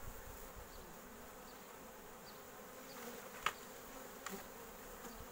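Honeybees from a queenless colony drone at an opened hive with foundation frames, a steady faint buzzing hum throughout, with a few brief clicks and knocks partway through.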